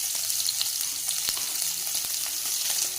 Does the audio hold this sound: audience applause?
no